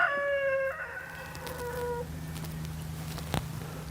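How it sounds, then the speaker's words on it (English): A rooster crows once, a long drawn-out call that fades, followed by a low steady hum and a faint knock. "Pardon my rooster."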